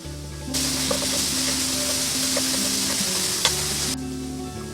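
Green beans, lemongrass and chili hit hot oil with cloves and star anise for turmeric fried rice, setting off a loud, steady sizzle with scattered spatula clicks, then the frying quiets abruptly near the end; no one speaks.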